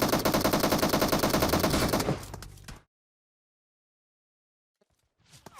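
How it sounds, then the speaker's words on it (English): Sustained automatic machine gun fire in the PUBG Mobile video game rattles loud and close in a rapid continuous burst, then cuts off to silence before faint rustling returns. "we're definitely getting shot at"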